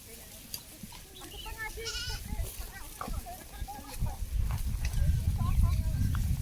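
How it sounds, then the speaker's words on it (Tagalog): Goats on a farm bleat in short scattered calls, close and moderately loud, mixed with chatter from several people and rustling movement throughout. "Amazing kambing."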